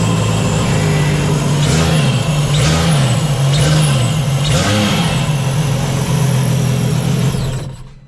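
A new 325 V8 motor with a stock factory air intake and no supercharger runs loudly and steadily in a mini jet boat, its low engine note swelling and dipping a few times before cutting off at the end.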